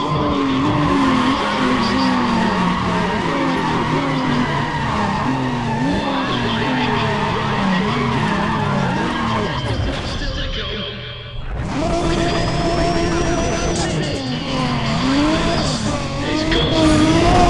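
Race cars skid and squeal through a Tokyo Dockyard race in Need For Speed: Pro Street, with dense, continuous engine roar and wavering tire screech over background music, a brief dip near the middle before the loud racing noise returns.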